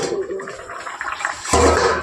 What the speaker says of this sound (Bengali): আমাদের ঝোলটা ফুটে এসছে